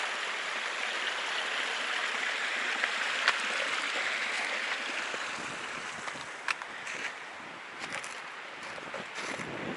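A creek runs through the woods beside the Appalachian Trail, a steady rushing babble of water close by that fills the whole stretch, with a few faint clicks and knocks over it and no talking.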